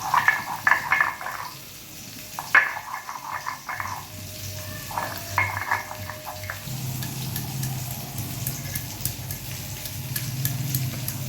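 Sardine fish frying in a pan of oil for a Bengali fish curry: a continuous close sizzle with bubbling crackle, and some clatter and stirring near the start before the frying settles into an even hiss.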